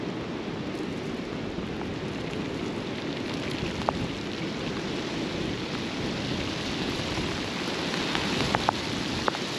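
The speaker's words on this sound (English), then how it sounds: "I think this is Storm Arwen moving in." Steady broadband hiss of heavy rain from Storm Arwen in winter with a low rumble underneath, continuous throughout, with a few brief sharp ticks of drops near the end.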